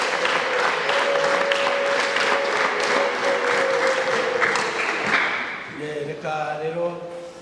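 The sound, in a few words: congregation applause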